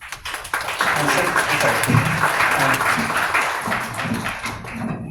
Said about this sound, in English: We give Leo a round of applause.